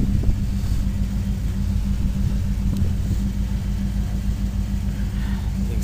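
A 1995 LT1 Firebird Formula V8 runs steadily at idle, a loud, deep, continuous rumble close by with no talking.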